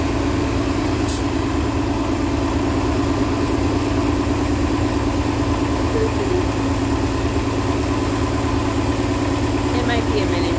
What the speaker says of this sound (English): the bus just got here and it's not my bus, but it's loud